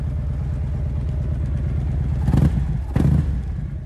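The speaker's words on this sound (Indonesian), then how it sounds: "Ini dia suara dari knalpot Harley Davidson Street Glide tahun 2008." Deep, low rumbling idle from the exhaust of a 2008 Harley-Davidson Street Glide bagger, close and steady with a pulsing throb, broken by two short sharp blips of the throttle near the end.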